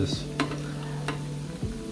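A low steady sizzle of mushrooms frying in a pan, with a few sharp clicks and light utensil scrapes breaking through.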